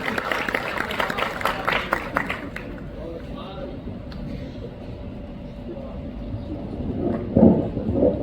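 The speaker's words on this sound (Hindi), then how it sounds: "पूरा सदन तालियां बजाएं।" An audience at a Hindi comic and satirical poetry gathering applauds, dense clapping at the start that thins out and fades, with crowd murmur and a speaking voice beneath it.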